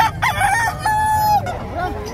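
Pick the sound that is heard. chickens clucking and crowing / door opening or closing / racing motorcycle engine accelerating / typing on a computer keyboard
chickens clucking and crowing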